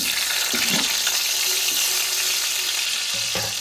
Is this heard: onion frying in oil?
yes